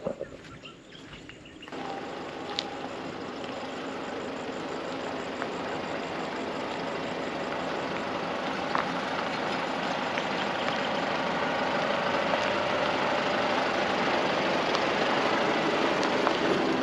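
A vehicle engine starts up and settles into a steady, low idle and rumble as the car pulls away on a dirt track in outback Queensland near Mary Kathleen, the sound gradually growing fuller while birds call faintly in the open air.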